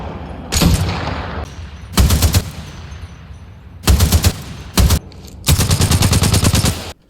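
Weapons fire in a shooter video game: loud, close bursts of rapid automatic gunfire, five separate volleys of varying length with short pauses between them, and no talking.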